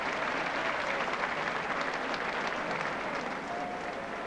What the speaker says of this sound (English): even the Hull spectators joining in the applause